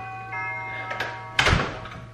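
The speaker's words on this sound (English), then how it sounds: "So it makes that noise each time you open the door" An electronic alarm chime on an apartment front door sounds as the door opens, a steady multi-tone ring followed by a solid thud of the door.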